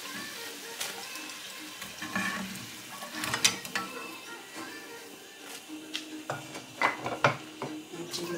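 Potatoes sizzle softly in a frying pan with oil, accompanied by intermittent scrapes and clinks of a utensil stirring and lifting them, fairly quiet and close.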